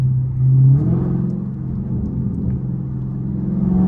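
A Dodge Scat Pack 392 engine rumbles steadily at idle with a low, throaty drone, close by and loud, with a slight swell early on, at night in the rain.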